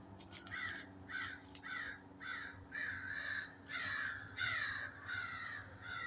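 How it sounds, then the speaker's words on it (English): Crows caw repeatedly in a steady series of harsh calls, about eight in a row, moderately near over a low background rumble. "Yes, I hear the crows."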